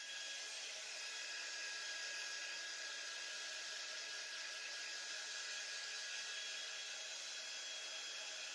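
Hair dryer blowing steadily to dry hair, a constant loud airy whoosh with a faint high whine, running unbroken for the whole stretch with no voices.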